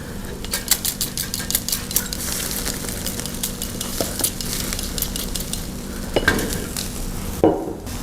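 Spicy Balinese chicken on a grill gives off a continuous close sizzle, broken by sharp metallic clicks and scraping taps from utensils against the grill.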